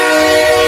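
A loud, sustained train horn blares as a sound effect, one steady continuous tone filling the whole brief moment.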